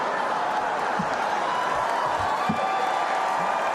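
Thin, steady crowd applause from an audience at a JD Vance political speech, even and unbroken across the moment, modest rather than roaring, with a few low thumps underneath.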